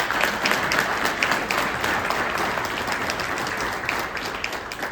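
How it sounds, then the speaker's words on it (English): Audience applause at a Hamilton County Commission keynote address, a dense, steady wash of clapping from a large crowd that holds level throughout. "Give them a round of applause."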